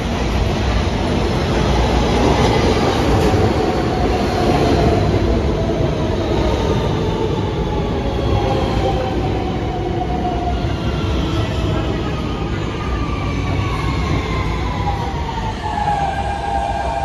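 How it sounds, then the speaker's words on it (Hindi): A New York subway local train roars through a station, a loud continuous rumble with squealing wheel tones and a high steady whine, heard close for about seventeen seconds. "तो आइए आप आपको सबवे स्टेशन दिखाते हैं जहां पर तेज़ रफ्तार लोकल ट्रेनें चल रही हैं।"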